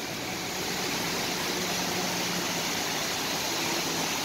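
Heavy rain and floodwater rushing during a Bahrain thunderstorm, a dense, constant roar of water that stays loud and unbroken the whole way through, with no talking.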